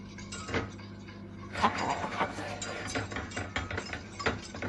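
Custard tart filling stirred in a bowl, a steady run of light clinking and scraping strokes at close range with no talking.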